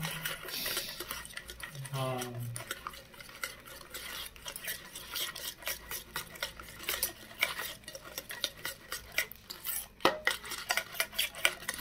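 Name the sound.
mixing tandoori chicken spice marinade in a bowl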